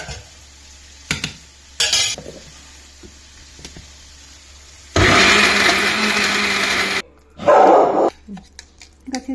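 A kitchen mixer grinder coarsely grinds a gourd chutney with tamarind in short loud bursts, one long whirring run and a shorter one, separated by quiet gaps with brief knocks and a person talking.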